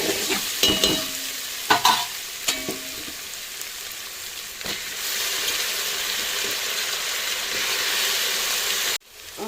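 Ginger-garlic paste and green chillies frying in a pan for biryani, a close, steady hiss and sizzle with a few sharp scraping strokes near the start, then an even, continuous frying sound that cuts off abruptly near the end.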